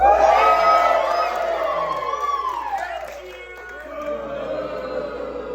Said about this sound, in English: So, tonight we invite you to cheer.